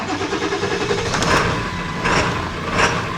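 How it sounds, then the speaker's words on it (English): A Ford 7.3 Powerstroke diesel truck engine turns over and settles into a loud, close, rough idle, with a few surging pulses as the throttle is eased. "Now I got an idling truck"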